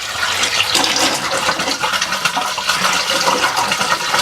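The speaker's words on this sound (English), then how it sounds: "allow your tankless hot water heater to flush out for at least 5 minutes" Steady gush of water flushing out of a tankless hot water heater, loud, close and continuous, with a broad hissing rush and no voices over it.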